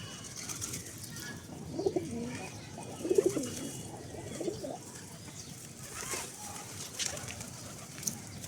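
Pigeons, including hens that have been sitting on eggs, coo softly as they come to feed, with a few short throaty bursts spread over a quiet outdoor background.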